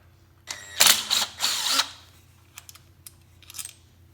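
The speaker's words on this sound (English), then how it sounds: "now we're going to remove the 11 8mm bolts that hold the side cover on" Mechanical clicks and ratcheting as 8mm bolts are loosened from the side cover of a Honda CRF230F, with a loud burst of metallic rattling early on, then sparse faint clicks and taps, close up with no talking.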